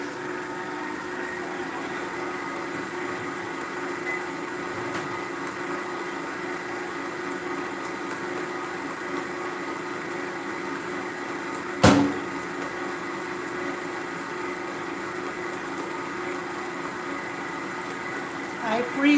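Electric mixer blending persimmon crunch muffin batter: a steady, even motor hum throughout, with one sharp knock partway through.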